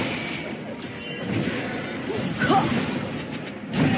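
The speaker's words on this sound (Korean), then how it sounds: "빨간 팀의 포탑이 파괴되었습니다" A loud crashing smash in a video game, with a burst of debris and a swishing impact over steady background game noise.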